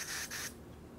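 A DPS Black Label fogger pepper spray hisses in two short bursts close by, a breathy spray that cuts off abruptly, leaving faint background noise.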